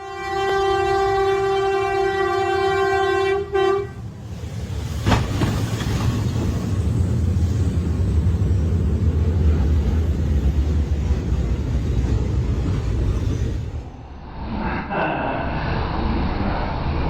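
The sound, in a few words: avalanche thundering down Mount Elbrus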